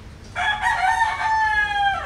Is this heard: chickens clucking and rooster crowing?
yes